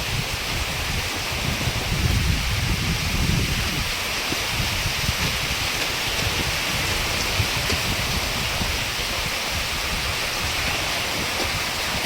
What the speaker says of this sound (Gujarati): ભાઈ વરસાદ તો એકદમ બહુ જોરથી આવવા લાગી ગયો અત્યારે